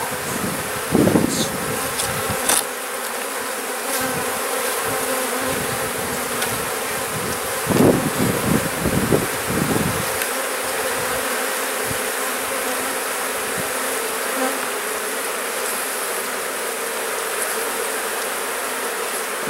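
Honey bees buzzing steadily around an open hive as burr comb is removed, a dense continuous drone with individual bees passing close by, occasional handling knocks, no talking.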